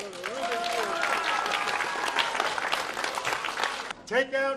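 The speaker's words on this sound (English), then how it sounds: "How about a round of applause?" An audience at a holiday science show claps steadily in a dense, even patter for a few seconds. Voices ring over it, then the clapping drops off sharply and a voice carries on alone at the end.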